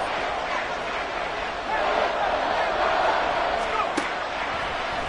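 Stadium crowd at an American football game, a broad roaring wash of cheering that swells slightly midway, steady and loud with a sharp thud near the end.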